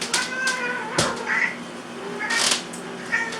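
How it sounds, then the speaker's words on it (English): Several short meows from a black cat come through at close range in a kitchen, mixed with sharp clattering knocks. "this is but the talking cat"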